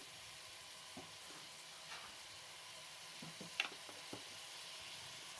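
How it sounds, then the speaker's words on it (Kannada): Chopped vegetables fry and sizzle in a pan while being stirred for a vegetable pulao, a steady soft hiss with a few light scraping taps of the spoon, close and fairly quiet throughout. "ವೆಜಿಟೇಬಲ್ಸ್ ಈಗ ಸ್ವಲ್ಪ ಫ್ರೈ ಆಗ್ತಾ ಇದೆ."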